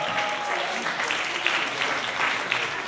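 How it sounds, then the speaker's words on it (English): Enthusiastic crowd applause for the food team at Paradise One in Byron Bay, steady clapping with voices mixed in underneath. "please give them a massive round of applause"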